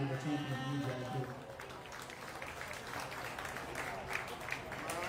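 Applause from a ringside crowd at a county fair sheep show, a steady wash of clapping that tapers slightly and runs throughout, with voices mixed in.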